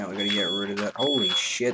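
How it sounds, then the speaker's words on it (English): A smoke or fire alarm gives two high, piercing, sustained beeps in quick succession, loud and close, while someone talks excitedly over them. "that is a fire alarm"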